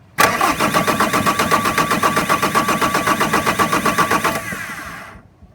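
A Bobcat 763 skid steer engine cranking over on the starter without catching, a fast steady rhythmic churning that runs about four seconds before winding down, close and loud with no talk.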